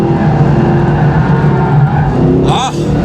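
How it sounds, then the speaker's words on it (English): A Mercedes SLS AMG on a racing circuit, its engine droning steadily under throttle before a short tire squeal from an oversteer slide near the end. "Just playing with the throttle. I love oversteer."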